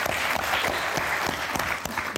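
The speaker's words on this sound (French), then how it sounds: "On vous applaudit toutes les quatre." Studio audience applauding on the French TV game show Motus, a steady dense clapping throughout with a few sharper individual claps, no talk over it.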